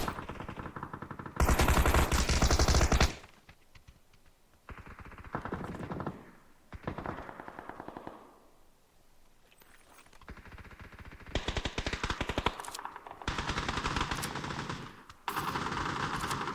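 Bursts of machine gun fire from the video game PUBG, several loud rapid volleys separated by quieter gaps, with no talking.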